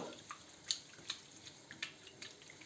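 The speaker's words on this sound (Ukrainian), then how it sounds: "І тепер е, гарно його промиваємо водою." Water trickles and drips as millet is rinsed in a bowl, with a series of faint, close, irregular splashes and droplets over quiet background.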